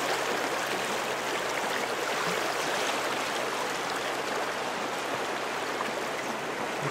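Elk Creek running steadily, a continuous broadband rush of flowing water with floating ice, close and fairly loud with no voices.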